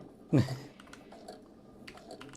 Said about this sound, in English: Oh, this keyboard's so weird.